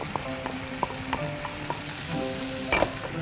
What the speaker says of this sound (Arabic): وهقلب كويس قوي